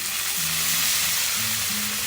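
Rosemary, a knob of butter and a splash of white wine sizzle in a pan on a compact wood-burning tent stove, a steady close hiss with low tonal hum beneath.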